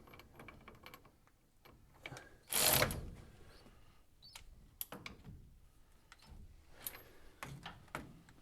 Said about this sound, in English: I'll use the electric ratchet for now.